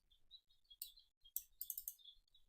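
Steller's jays give quiet high chirps and short scratchy calls in quick irregular bursts, with faint clicking between them, thin and somewhat distant, no talking.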